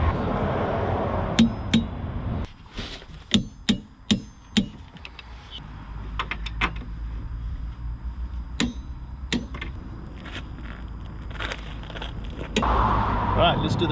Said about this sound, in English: Now I just need to torque up these bolts.